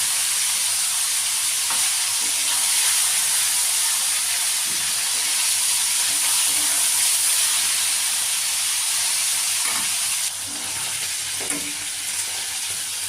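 Small amudi fish fry lightly in hot oil in small batches, a loud, continuous sizzle and hiss up close, broken by a few soft stirring knocks and easing slightly near the end.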